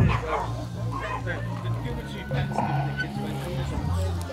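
Dogs at an urban campout yip and bark in short bursts close by, mixed in with people chatting around a fire pit, the barks partly buried under the conversation.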